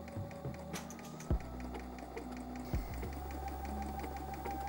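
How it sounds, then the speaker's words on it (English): A sewing machine runs a straight stitch through thin polyester fabric with a slightly lengthened stitch, a quiet steady mechanical hum and rapid needle patter, with two soft thumps breaking the rhythm. "the machine's sewing through that with ease"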